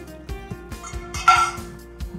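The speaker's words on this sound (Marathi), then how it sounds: "खलबत्त्यामध्ये मस्त ठेचून घेणार आहे मी" Ingredients are crushed with a salt pinch in a stone mortar and pestle, giving a series of sharp, regular knocks and grinding thuds close by, roughly two per second.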